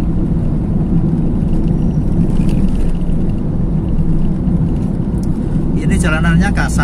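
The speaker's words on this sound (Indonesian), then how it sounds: "Ini berisik sekali mobil ini." Steady low road roar inside the cabin of a Honda Jazz RS GK5 automatic cruising on rough asphalt of the Jakarta–Cikampek toll road, loud and continuous, with a person talking over it.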